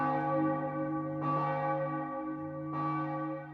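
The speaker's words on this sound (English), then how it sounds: "A bell chimed." A deep, resonant bell chimes twice, each strike ringing out with a long sustained hum that overlaps the next, loud and close with no voices.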